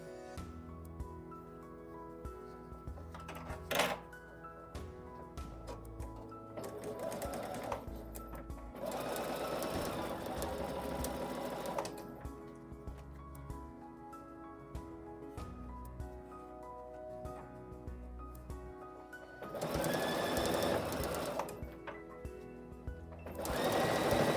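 Sewing machine stitching quilt pieces for a wonky star block, steady close mechanical whirring in several runs with brief pauses between them, no talking.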